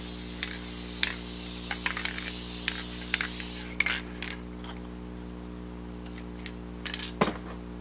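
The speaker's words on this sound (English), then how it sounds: "Just going to spray my foam lightly." An aerosol can of spray adhesive mists lightly onto puppet foam in several short, close hissing bursts over a steady electrical hum, then the spraying stops and only faint handling clicks follow.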